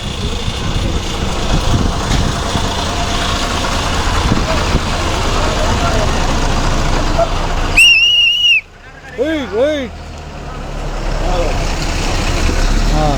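Inside a bus running from Tenali to Chinapulivarru, a loud, steady engine drone and road rumble fill the cabin. Near the end, brief high horn toots sound and the engine dips quiet before building up again, with some background voices.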